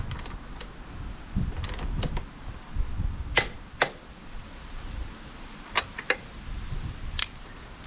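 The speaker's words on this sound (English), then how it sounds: "Now to torque these up." Bolts on an Arrow silencer of an Aprilia Tuareg 660 motorcycle are torqued up, with a series of sharp metallic clicks and ratchet snaps scattered over quiet handling noise.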